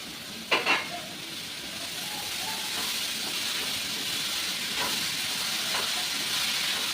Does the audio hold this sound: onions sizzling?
yes